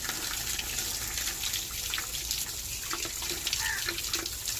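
Water runs through the mesh of a farm irrigation water filter being cleaned, a steady soft splashing hiss with faint drips, fairly quiet and without speech.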